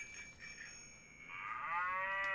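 Cow moo from a children's sound book toy plays as a small electronic sound, a thin tinny low, near and moderately loud after a bell-like chime.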